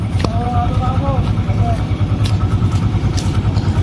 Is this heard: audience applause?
no